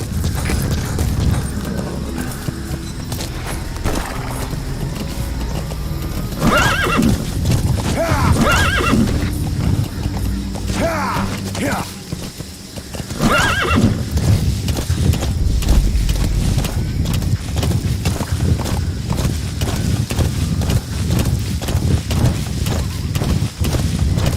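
A horse in Metal Gear Solid V: The Phantom Pain whinnies a few times midway while hooves clip-clop steadily throughout, set against a constant, dense game background.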